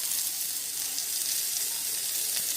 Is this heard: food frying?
yes